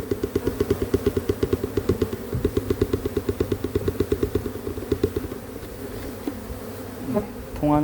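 Honey bees being gathered from a Florida hive buzz loudly and close in a fast pulsing drone, easing off near the end, where a brief rustle and knock follow, with no talking.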